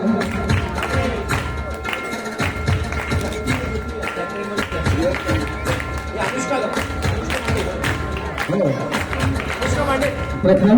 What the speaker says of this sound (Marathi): जरा जोरदार टाळ्या वाजवायचे. टाळ्यांच्या प्रतिसाद कंटिन्यू राहिला पाहिजे.